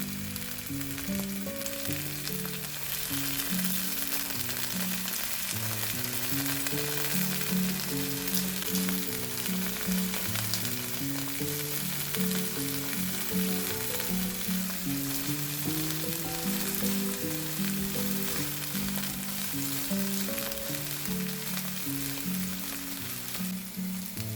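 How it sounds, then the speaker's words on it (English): A peas and parsley side dish gets mixed in a hot pan, its steady, even sizzle running underneath continuous background music. "Add a little parsley and mix thoroughly."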